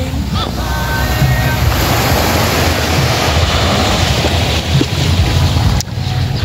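Sea waves at a beach roar continuously in a loud, close wash, heavily mixed with wind buffeting the microphone, with no clear break between surges.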